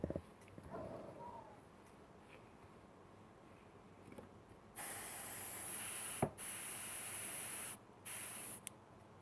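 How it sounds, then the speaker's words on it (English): A spray hisses in three bursts onto a 1/35 scale Trumpeter Faun tank transporter model kit, long steady sprays separated by brief pauses, close by after some quiet handling noises. "Put the mask on and spray some stuff."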